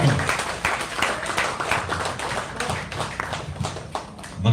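An outdoor Pasig crowd gives warm applause to welcome Attorney Harry Roque at a rally: dense, continuous clapping from many people, fairly close and loud, with faint crowd voices underneath.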